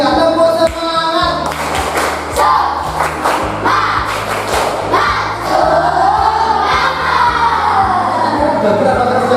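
A group of people clapping together in a rhythmic spirit-clap pattern, loud and close, with bursts of sharp claps over a crowd murmur and some background tones.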